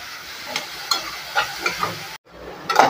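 Onions with curry leaves sautéing in a pan, a soft continuous sizzle broken by several spatula scrapes, a brief silent gap near the end, then a louder burst of frying; close by, with no talking.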